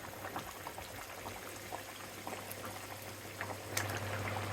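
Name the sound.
tomatoes added to boiling papaya curry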